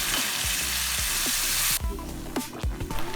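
Lasagna meat sauce sizzles and fries hard in the pan, then drops to a softer bubbling simmer once beef broth is poured in, with scattered stirring scrapes and clinks.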